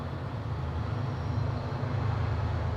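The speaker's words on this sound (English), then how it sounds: "This train would really be going by right now." A train rumbles by near the Cesar E. Chavez National Monument, a low continuous rolling drone that swells slightly louder toward the end, with no voices.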